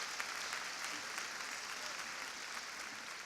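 A crowd at the 2017 State of the Urban League Address, a National Urban League event, gives a round of applause, heard as a faint, distant, steady patter that continues evenly throughout.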